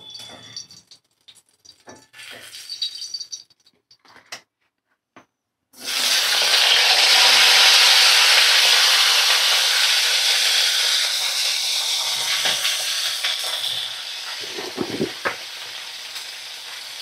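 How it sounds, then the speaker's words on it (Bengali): Flat beans hit a hot pan after eggplant frying, bursting into a loud, continuous sizzle that holds steady with occasional stirring scrapes, after a few seconds of quieter kitchen clatter. "শিমগুলো ভালো করে ভাজা করব"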